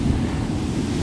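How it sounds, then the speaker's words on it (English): Big ocean waves during Hurricane Enrique at Puerto Vallarta, a brief rumbling surf wash mixed with gusty wind buffeting the microphone, close and steady. "the waves are so big that it's like the sea spray mist"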